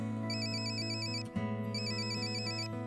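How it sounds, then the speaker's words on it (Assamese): A phone rings on an unanswered call, a repeating electronic ringtone in two bursts over a steady, quiet tonal background, fairly faint. "ৰিং গৈ আছে"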